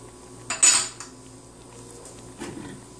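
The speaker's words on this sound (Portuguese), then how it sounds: "Estou colocando a abobrinha." Chopped zucchini goes into a cooking pot of liver soup for babies, giving a short metallic clatter of utensil against pot, then a fainter clink near the end, with quiet background between.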